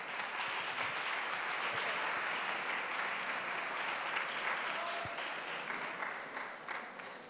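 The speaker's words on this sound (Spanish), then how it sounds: "Un aplauso para ellas." An audience at a talk on OCD held by an obsessive-compulsive disorder association claps for two speakers, a steady dense patter of applause throughout that is fairly faint and tapers slightly toward the end.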